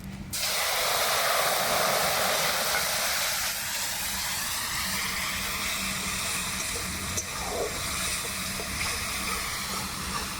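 A paste of ground cumin and onion hits hot oil in a frying pan for a Bengali prawn malai curry, bursting into a loud hiss that settles into a steady, close sizzle throughout.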